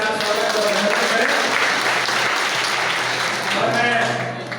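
An audience at a Chero tribal community gathering applauds in a hall, a loud, dense, sustained burst of clapping, with voices calling out over it now and then.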